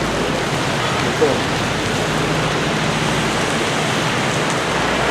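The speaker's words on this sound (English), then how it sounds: "It's sunny just now it's raining." Rain falls steadily in an even, dense hiss throughout, moderately loud and unbroken, with no distinct drops or voices standing out.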